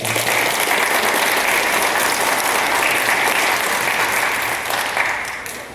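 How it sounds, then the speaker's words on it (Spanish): Sustained loud applause from a large crowd at a wedding, dense and steady clapping that tapers slightly near the end. "Fuerte voto de aplausos."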